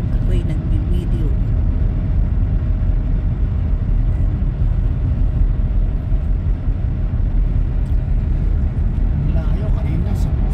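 A car drives along a snowy winter road toward Laval, its steady engine and tire rumble filling the cabin at close range, with someone talking over it.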